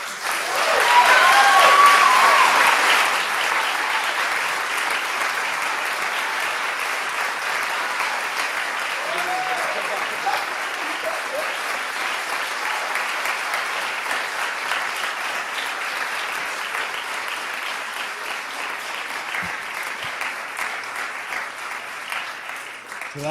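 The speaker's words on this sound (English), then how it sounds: "One more round of applause for all of this company?" Theater audience applauding at the end of a college theater festival play, a loud burst at first that settles into steady, sustained clapping throughout.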